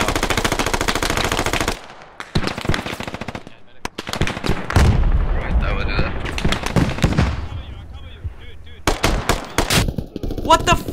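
M249 SAW light machine gun bursts in the military shooter Squad, sustained rapid automatic fire opening the clip, then scattered shots and further bursts among surrounding battlefield gunfire, with voices talking over parts of it.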